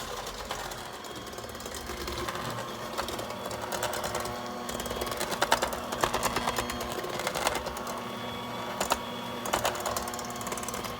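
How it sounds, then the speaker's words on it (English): An electric mixer runs on low speed through brownie batter with a steady, close mechanical whir and rattle. The beaters knock faintly against the bowl at times, and no one talks. "I'm just mixing it on low because it doesn't take a really strong mix."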